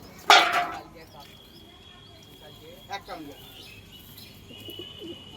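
A sharp burst of sound opens, then soft pigeon coos and chirps come and go nearby, with some flapping and a few voices in the background.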